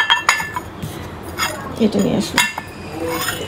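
Ceramic plates with a Jamdani design clinking as they are handled, several sharp ringing knocks and clatters at close range, with someone talking between them.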